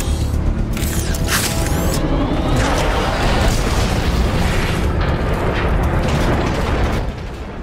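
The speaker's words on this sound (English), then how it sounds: "Warp cannons. Megatron isn't holding back anything this time." Warp cannons in Transformers: Fall of Cybertron fire heavy booming blasts over a continuous roaring, rumbling battle din, with sweeping whooshes early on and a sustained loud barrage that drops off near the end.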